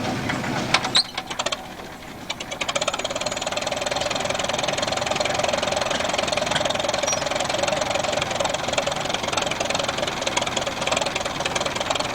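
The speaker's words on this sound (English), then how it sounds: "Is a 1949 Farmall Cub high clearance tractor" A 1949 Farmall Cub high clearance tractor with a 12-horsepower engine runs steadily at a farm-equipment show, a loud, even chugging drone after a brief uneven start, with no talk over it.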